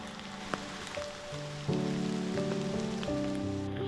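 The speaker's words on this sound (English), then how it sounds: "the rain's also slowing down, which is nice" Rain falls along a backpacking trail near Minister Creek on the North Country Trail, a steady close patter with scattered sharp drop clicks, alone without talk.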